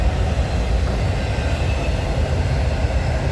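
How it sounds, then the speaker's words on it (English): A CN Rail freight train, symbol CNZ149, passes close by with a steady, loud rumble of wagons rolling along the rails, constant throughout with no voices. "Symbol on that train is CNZ149"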